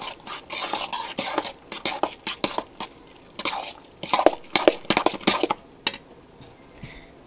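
A spoon scrapes and clatters rhythmically against a pot while stirring a homemade soap mixture with lavender, close and fairly loud, in irregular bursts with short pauses and no talk.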